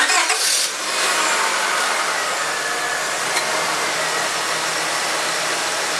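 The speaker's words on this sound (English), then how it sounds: "let's start our engines" A car engine starts and runs during an automatic transmission fluid flush, a brief cranking burst giving way to a steady, loud idle that holds evenly to the end.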